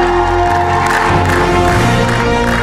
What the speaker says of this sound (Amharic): ለያብስራ ስሞክ ያለ ጭብጨባ።